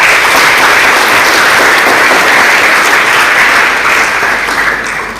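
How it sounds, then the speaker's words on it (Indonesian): Loud sustained applause from a hall full of students at the opening of a school science and language competition, dense continuous clapping that tapers slightly at the end. "Bapak minta sekali lagi tepuk tangan untuk kita semua."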